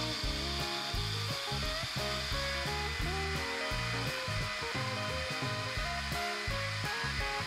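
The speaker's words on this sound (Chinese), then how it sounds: "然后用搅拌机把它打成米浆" A kitchen blender grinds soaked rice with water into a smooth rice paste, a steady, loud motor whir with a rough, churning buzz that runs unbroken for the whole stretch.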